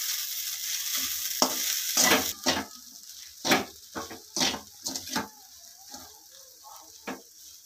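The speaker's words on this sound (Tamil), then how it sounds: "இந்த டிஷ்ஷுக்கு தேவையான மஞ்சத்தூள் உப்பு ஆட் பண்ணிக்கலாங்க. நல்லா மிக்ஸ் பண்ணிக்கலாங்க." A spoon stirs turmeric and salt into a leftover idli mixture, giving irregular scraping and clinking strokes against the bowl, close and fairly loud, with quiet gaps between them.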